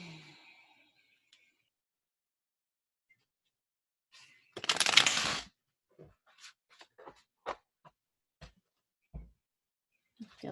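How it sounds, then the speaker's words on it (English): A tarot card deck being shuffled, one dense burst of riffling cards lasting about a second, followed by several short crisp taps and clicks as the cards are squared and handled, close and otherwise quiet. "So I will shuffle the deck here"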